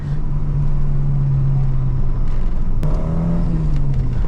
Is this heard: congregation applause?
no